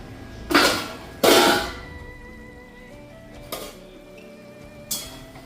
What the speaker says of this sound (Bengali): এই যে চাল কুমড়া এখন কাটতে বসেছি।